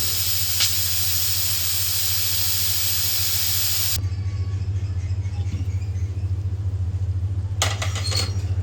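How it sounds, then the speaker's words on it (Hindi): Loud, steady steam hiss from a pressure cooker cooking chicken shorba over a low hum, cutting off abruptly as the whistle is removed, leaving a quieter hum with faint clatter and a brief hiss near the end. "अब हम प्रेशर कुकर की सीटी को उतार लेते हैं।"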